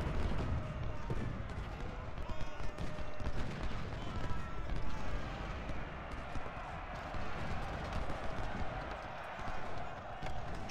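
Musket volley fire in the Ultimate General: Civil War battle game, a dense, continuous crackle of gunfire and battle noise that stays loud throughout, with voices mixed into the din.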